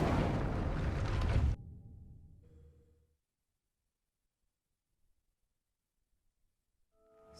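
Incendio fire spell cast in Hogwarts Legacy: a loud, dense burst of roaring flame that cuts off sharply after about a second and a half, then a fading rumble and near silence.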